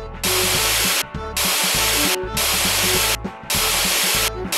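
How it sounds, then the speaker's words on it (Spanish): Hot air balloon blowing in a Wizard of Oz cartoon video game, heard as four loud, steady rushing blasts, each about a second long, separated by short pauses, with game music playing underneath. "Sopla el globo de aire caliente."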